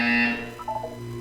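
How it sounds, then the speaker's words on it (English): A buzzer from the video game Portal 2 sounds once, a loud, steady electronic tone that cuts off after a fraction of a second, followed by fainter tonal electronic chimes. "You will hear a buzzer."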